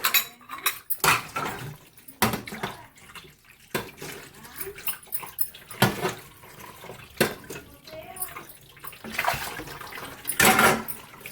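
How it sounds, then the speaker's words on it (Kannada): Dishes and cutlery being washed at a sink after a home-cooked vegetable sambar meal, with irregular clinks and clatters of pots and spoons over intermittent splashing water, close by and uneven in rhythm. "ಪಾತ್ರೆ ತೊಳೆದು"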